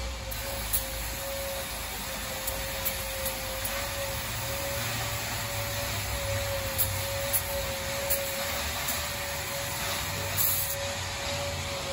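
Compressed air and brake parts cleaner hiss steadily at close range over the parts of a 2002 Subaru Impreza WRX. The spray runs continuously, with small clicks and no talk.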